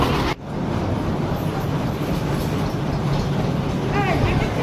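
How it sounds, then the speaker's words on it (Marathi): A small toy train runs along the jetty at Elephanta, a steady rumbling roll with faint clatter throughout, fairly loud and close, while people talk nearby. "बघा इथं टॉय ट्रेन आहे"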